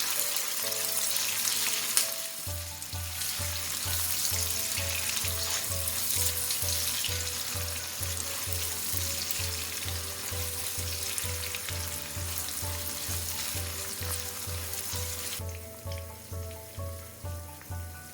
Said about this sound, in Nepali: अब यसलाई हल्का केही बेर फ्राई गरौँ प्याजलाई